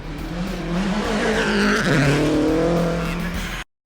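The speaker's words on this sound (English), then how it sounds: "So Aussie Atco in the Subaru is leading his home rally, driving it like he stole it" A Subaru rally car races flat out along a rally stage in Australia, its engine roaring loud and steady with revs rising and falling as it passes.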